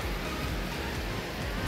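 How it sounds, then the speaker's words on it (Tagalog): Heavy rain falls steadily over a small hut, a dense, continuous hiss of water with no pauses, close and loud and fairly even throughout. "Nakita nyo man yung sitwasyon, grabe yung ulan."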